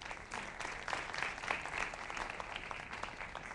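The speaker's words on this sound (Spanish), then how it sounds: "Un aplauso para Claudia." A seated audience at a conversation event breaks into applause, a brief steady patter of many hands clapping at moderate volume, with no one speaking.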